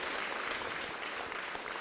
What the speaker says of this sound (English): give a big round of applause for this wonderful guy who allows us to use this beautiful facility